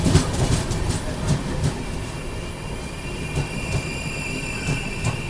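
The Chennai SF Express pulls out of Miryalaguda station, its wheels clattering over rail joints in a steady rhythm with a faint high squeal, heard loud and continuous from aboard the train.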